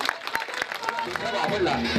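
Audience applause at a dance competition, a crowd clapping steadily under an announcer's voice, with the clapping growing denser and fuller toward the end.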